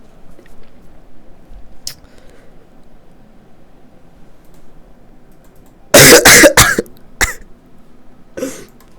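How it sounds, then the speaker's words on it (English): A sick person gives a loud burst of rapid, close coughs after a long stretch of quiet background noise, then a single cough and a softer throat-clearing follow. "I'm coughing a lot."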